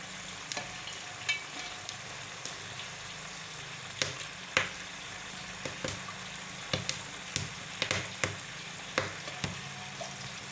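Bone-in mutton fries in hot oil, a continuous crackling sizzle broken by sharp clinks and scrapes of a spoon stirring the pan at irregular intervals.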